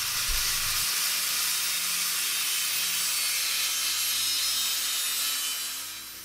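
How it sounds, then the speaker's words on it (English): Angle grinder with a metal cutting disc slicing through steel box section, a loud, steady, hissing grind that holds throughout and tapers off at the end, close to the listener. "For that, I'm going to use an angle grinder and a metal cutting disc."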